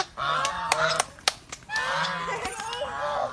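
Honking goose-like calls from waterfowl at a zoo, several nasal cries in a quick irregular series, close and fairly loud, with a voice faintly in the background.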